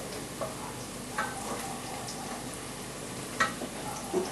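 Onions and carrot frying in a pan, a low continuous sizzle punctuated by occasional sharp taps and clicks of a utensil against the pan, with no one speaking.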